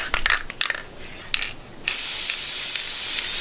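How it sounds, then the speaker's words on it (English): Wooden dowels being spray painted inside a small outdoor paint box: a few light knocks and rattles of the dowels, then a loud continuous aerosol hiss close by. "I set up a little paint box here, and the dowels can roll around as I spray paint."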